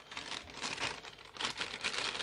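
A plastic bag crinkles as papers are slipped inside during gladiolus bulb preparation, a faint, continuous rustle rising and falling over a couple of seconds, heard alone.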